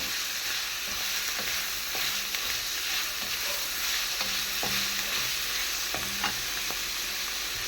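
Onion sizzles in a hot frying pan while being stirred, a steady loud crackle punctuated by repeated scraping and tapping of a spatula against the pan.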